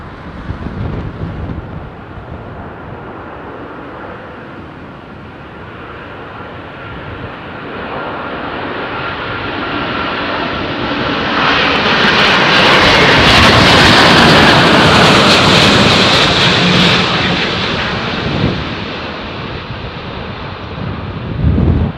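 A Virgin Atlantic Airbus A350 airliner passing overhead in stormy wind, its roar swelling to a loud peak midway and then fading, with wind buffeting the microphone and no talking.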